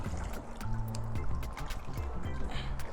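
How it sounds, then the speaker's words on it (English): Water splashes and trickles steadily as an embroidered sweatshirt is rinsed in a basin, close and continuous, with a faint low hum beneath. "I'm just going to kind of rinse this away."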